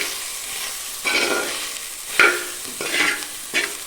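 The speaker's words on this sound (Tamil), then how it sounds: "இப்போ வந்து நம்ம இந்த தேங்காயும் இது கூட சேர்த்து ஒரு வதக்கு வதக்கிக்கலாம்." Grated coconut stirred into fried ingredients in a pan for a country chicken curry, a close sizzle punctuated by a few sharp spatula scrapes at uneven intervals, with no voices.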